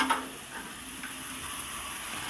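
A steady, soft sizzle of Hilsa fish gravy with mustard and poppy seed bubbling in a pan while it is stirred, with faint scraping and simmering that holds evenly throughout, no voices.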